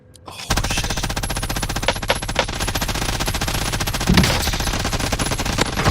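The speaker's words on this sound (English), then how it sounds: "The fact that that gun has 90 rounds that do so much damage" MG-82 machine gun firing in a video game, a loud, continuous rapid burst of shots at a fast, even rhythm that lasts nearly the whole stretch.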